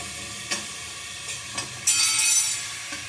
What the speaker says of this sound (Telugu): ఆయిల్లోనే అల్లం వెల్లుల్లి పేస్ట్ బాగా ఫ్రై చేసుకోవాలన్నమాట